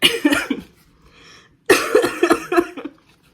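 A person coughs in two close, harsh bursts separated by a short pause.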